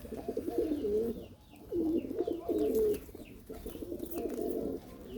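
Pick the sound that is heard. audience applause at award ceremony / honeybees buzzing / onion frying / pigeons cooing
pigeons cooing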